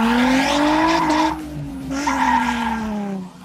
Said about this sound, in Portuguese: vou puxar o freio de mão, você vai ver que a rota vai parar e o carro vai vir de lado